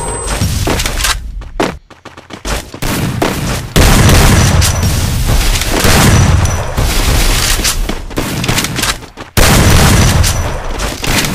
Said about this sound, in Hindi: मैं ग्रेनेड कर रहा हूँ तुम पर ग्रेनेड करते में।